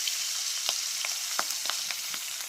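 Milkfish (bangus) frying in hot oil, a steady bright sizzle broken by sharp, scattered pops of splattering oil, close and fairly loud, with no talk.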